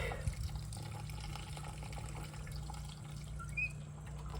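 Water trickling and dripping as it drains down through soil packed in a 5-gallon bucket for starting chestnut trees, a quiet, steady wet seep with faint drips, close by and without talk.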